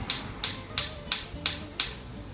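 The igniter on a gas stove burner clicks as it lights under a frying pan for homemade hamburger patties. Six sharp, evenly spaced ticks sound close and alone.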